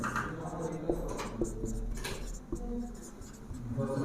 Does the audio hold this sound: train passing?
no